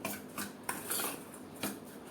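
A spoon stirs raw mango raita salad in a bowl, making soft repeated scraping and clinking strokes in a loose rhythm, close and quiet with no voices.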